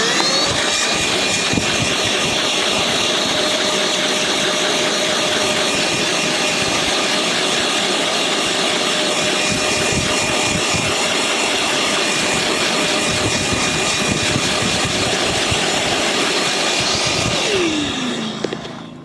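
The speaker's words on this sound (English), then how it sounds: "Now the noise you can hear in the background is my generator because I obviously need electricity." A generator runs loudly and steadily nonstop, powering a vacuum cleaner on a caravan carpet, with the whine winding down near the end and no speech.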